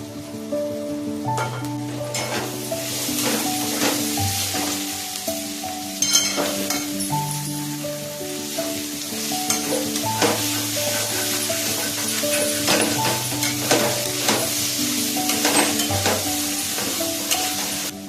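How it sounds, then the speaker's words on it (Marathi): Masala paste of ground spice blend with red chilli powder fries and is stirred in a pan, giving a steady close sizzle with repeated scraping strokes throughout. "परतून घेतलेला आहे मसाला"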